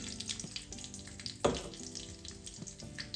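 Cashews and almonds fry in a little hot desi ghee in a kadai, a soft steady sizzle with faint bubbling and a brief clink of a utensil midway.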